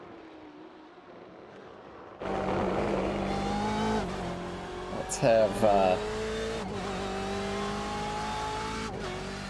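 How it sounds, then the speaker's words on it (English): In an iRacing BMW race car, a loud engine holds a steady high drone after a sudden start, with a brief shifting burst midway, heard close up under a couple of spoken words at the beginning. "Brian take us around here with some really loud engine here."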